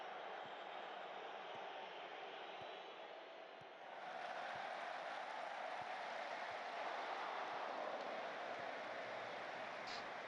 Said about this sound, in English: It might just be the bench that's cheering them on.